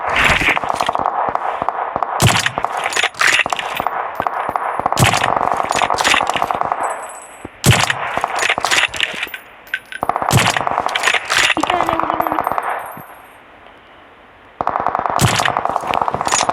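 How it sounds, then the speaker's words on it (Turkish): Rapid bursts of automatic gunfire in PUBG Mobile with sharp metallic clinks and pings, firing in repeated volleys separated by brief lulls, loud and close. "Aha silah sesi"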